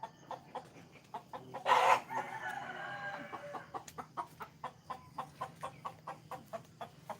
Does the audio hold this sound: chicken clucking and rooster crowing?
yes